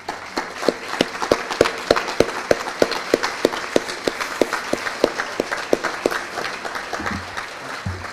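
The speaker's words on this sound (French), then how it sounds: "Je vous invite à vous lever, s'il vous plaît, pour leur donner une main d'applaudissement." Audience at a credit union cooperative's annual general meeting applauds regional cooperative committee members, the clapping loud and strikingly even, falling into a steady, near-synchronized rhythm that holds for several seconds before thinning near the end.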